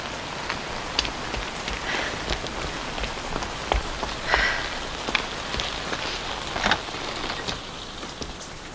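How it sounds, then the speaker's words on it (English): Heavy rain in the video game Evidence 111, set at a harbour by a three-story Victorian house, a dense steady hiss of drops pattering on surfaces with scattered louder splashes and drips throughout. "The rain's getting stronger."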